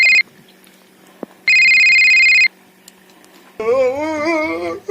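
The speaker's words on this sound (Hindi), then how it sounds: "काकर फोन आते यार" An electronic phone ringtone sounds in two steady beeping bursts, then a warbling melodic ring tone plays, loud and close.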